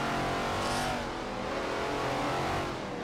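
A Shelby Cobra with a 7.0-litre V8 in Forza Motorsport 7, on the Nordschleife, gives a loud, continuous engine howl that shifts smoothly in pitch under acceleration, close and dominant throughout.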